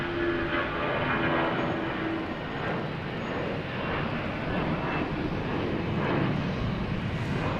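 An American Airlines Airbus A321neo arriving at Boston Logan from Phoenix gives a steady, fairly distant jet roar that holds at an even level throughout, with no talking over it.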